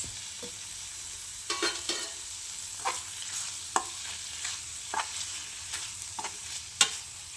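Mushroom fry sizzles steadily in a pan as coriander is stirred in, with a soft frying hiss beneath repeated sharp scrapes of the spoon against the pan, close and without talking.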